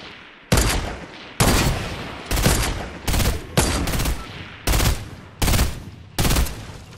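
Rapid Fortnite gunshots, about eight loud, sharp reports fired at a steady, evenly spaced rhythm, each cutting off abruptly before the next, with no talk over them.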